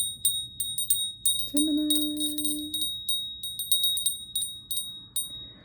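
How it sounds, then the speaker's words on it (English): A small bell rings several times in quick succession to open a tarot reading, bright metallic strikes with one sustained tone, and a voice speaks briefly over the ringing. "Let's ring the bell."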